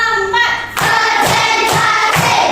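Hand claps from a classroom ice-breaking clap game, a few sharp claps in a quick counted sequence spaced through the clip, close and fairly loud, with a tonal voice-like layer running between them.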